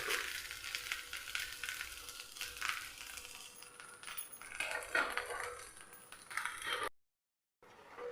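Rava and tomato dosa sizzling and frying in a hot pan, a steady crackle with small clinks and scraping, alone and close, cutting to near silence briefly before the end.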